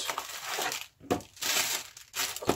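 Close, crisp crinkling and crushing of a plastic bag while a mortise marking gauge is unboxed, in several short bursts with brief pauses between them.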